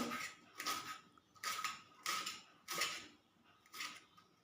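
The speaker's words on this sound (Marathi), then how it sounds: "मिरची चिरून घेत आहे मी" Large green chillies being chopped with a knife on a board, six evenly spaced crisp cuts close by, quiet, no talking.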